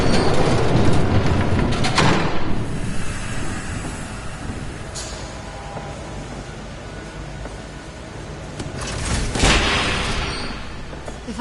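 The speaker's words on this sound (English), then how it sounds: "There's a train coming." Train approaching in a Batman video game: a heavy, loud rumbling roar that builds and fades, with a couple of sharp rushing bursts over a dense low-pitched drone.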